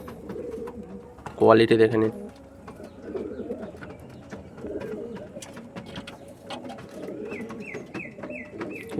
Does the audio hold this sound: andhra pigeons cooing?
yes